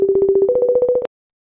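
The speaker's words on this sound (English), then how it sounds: "you hear the ringing?" A phone ringing with a rapid, pulsing electronic ring tone that steps up slightly in pitch partway through, loud and clear, then cuts off abruptly into silence.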